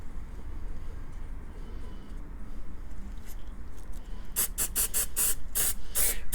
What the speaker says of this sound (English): I'm gonna go ahead and do the second coating